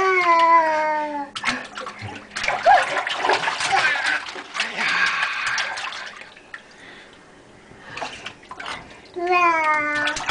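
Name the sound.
water splashing as a toddler is bathed in a sink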